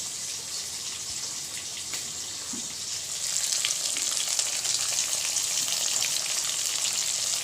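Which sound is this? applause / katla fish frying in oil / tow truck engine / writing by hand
katla fish frying in oil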